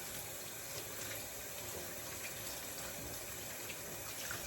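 Steady stream of water from a kitchen tap rinsing out a container, a continuous hissing splash at a quiet, even level with no voices.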